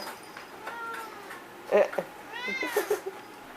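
A hungry cat meows for food indoors: several close, plaintive meows, one short and sharp, another drawn out and wavering, against a quiet room background.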